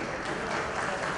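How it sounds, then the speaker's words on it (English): Brief burst of audience applause at an education and technology conference, a steady wash of clapping from a crowd, heard alone. "I think a round of applause should be good"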